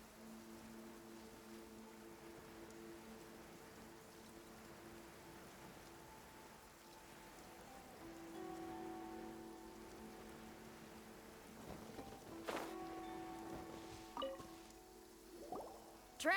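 Rain falling in a video game during the Labyrinth Warriors event: a faint, steady patter of rain under soft game music tones, with a few sharper clicks toward the end.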